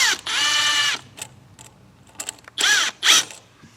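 A tool works loose a hose clamp on a pipe of a 2020-2024 L5P Duramax, making short ratcheting clicks in bursts with brief pauses between them, close by and with no talk.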